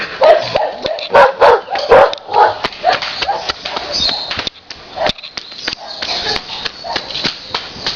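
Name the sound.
dog barking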